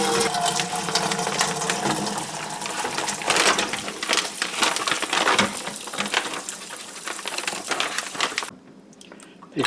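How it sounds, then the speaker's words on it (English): Running water pours and splashes into a large pot with a colander set inside, a continuous loud rushing fill with bubbling texture that cuts off near the end. "I have a large pot here. This is going to be my washing machine. And I'm placing a colander inside."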